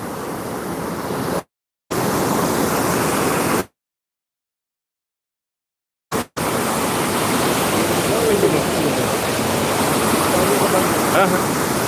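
Water rushes along a channel from the Noyyal river into Kurichi lake, a loud, continuous broadband roar. Two abrupt dropouts break it, one short and one a few seconds long, before the steady rush resumes.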